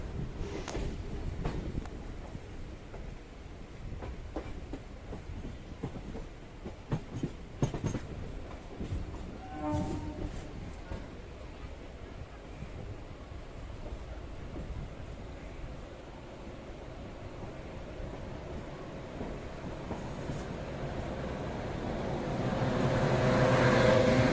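A MEMU passenger train running from Palakkad toward Coimbatore, heard from inside as a steady low rumble with rhythmic rattling and occasional clatters, rising louder near the end, no talking.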